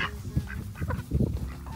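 Chickens pecking at and eating pumpkin in a farmyard, giving off a run of short clucking and honking calls with soft pecking in between, fairly close and steady over a couple of seconds.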